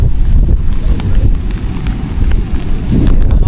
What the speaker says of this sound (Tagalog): Sobrang lakas guys yung ng hangin.